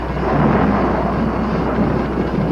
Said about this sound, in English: The storm's really building up.